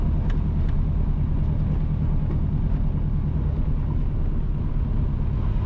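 A car drives east along Cool Spring Road in St Mary Parish, Jamaica, with a steady, loud rumble of engine and tyre noise throughout and no voices.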